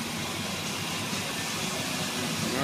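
A Formula 252 boat's engine runs steadily at a marina, a continuous broadband rumble that stays loud and even throughout with no talk over it.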